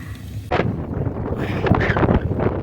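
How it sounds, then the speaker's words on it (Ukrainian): Strong gusts of wind buffeting the microphone, roaring and rumbling loudly and continuously after a sudden surge. "Який вітер."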